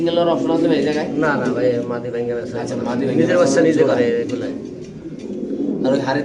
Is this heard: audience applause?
no